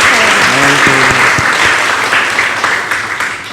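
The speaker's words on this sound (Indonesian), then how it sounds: "Oke, beri tepuk tangan saya." Applause from an audience at a live Ramadan talk show event in Indonesia, a dense steady clatter of clapping that fills the clip and slowly tapers, with a brief low musical tone near the start.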